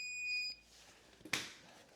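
A short, high electronic beep from a voltage tester sounds once at the start, followed by a brief rustle; otherwise quiet.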